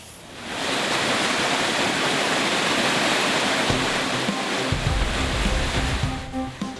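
Flash floodwater from the overflowing Citarik Cipencit river rushes through a village in Cibuntu, Cicurug, Sukabumi, West Java, a loud continuous roaring torrent with no voices.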